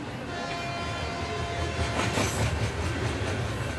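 A train rumbles and rattles through a railway station, a steady wash of wheel and carriage noise with a faint horn-like tone, heard from a platform with some voices underneath.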